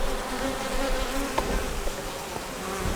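Honey bees buzzing around an open beehive during a check of the hive for a queen, a dense, steady swarm hum that stays close and continuous throughout.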